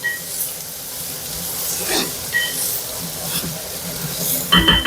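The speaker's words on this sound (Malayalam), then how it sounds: "ഉള്ളി വഴറ്റിക്കൊണ്ടിരിക്കുന്നു." Onions sautéing in a pan for theeyal give a soft, steady sizzle, with occasional scrapes and clinks of stirring and a louder clatter near the end.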